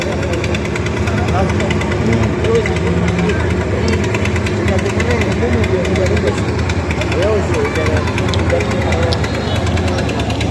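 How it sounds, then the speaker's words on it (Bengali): Engines of three trawler boats brought to repair erosion at the Kazirhat sluice gate run in a steady, loud, continuous drone with a knocking throb, and voices talk over it throughout. "তো এই জন্য কিন্তু আপনার ট্রলার 3টা এসেছে, দেখতে পাচ্ছেন।"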